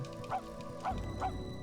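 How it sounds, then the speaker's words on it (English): Max the dog barks in the Grinch PS1 video game, three short yipping barks spaced evenly over a low background hum, close and clear, with no talk. "I have a dedicated bark button."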